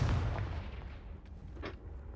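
A Confringo spell blast in the video game Hogwarts Legacy, a deep booming burst at the start that fades into a rumbling tail, followed by a few fainter pops and cracks.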